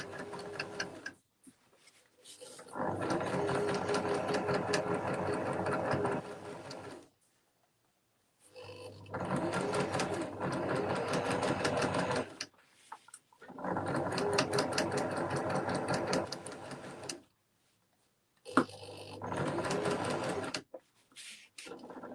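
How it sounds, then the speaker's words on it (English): A sewing machine stitches a screen-printed gift bag in four loud, steady runs of rapid mechanical whirring, separated by short pauses of near silence. "And I'm going to carry on sewing all the way to the other side until I meet my beginning."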